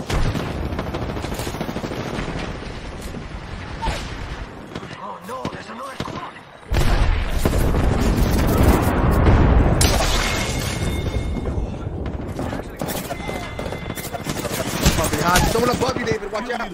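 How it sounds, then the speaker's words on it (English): An airstrike pounds the ground in Apex Legends. A barrage of heavy booms and rapid gunfire rolls on in loud waves, with a sharp surge partway through, while players shout over it. "Airstrike."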